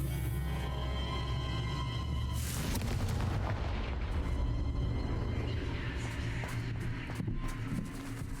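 Confringo fire-blast spell in Hogwarts Legacy erupting with a heavy booming blast, followed by rumbling, crackling debris and game effects that stay dense and loud for several seconds.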